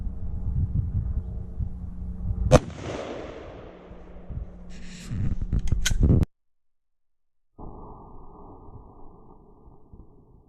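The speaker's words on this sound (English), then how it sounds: "I took 2 shots because the first one was kind of low" Two loud, sharp gunshots fired at pine boards, the second a few seconds after the first, each a sudden crack over steady outdoor background noise.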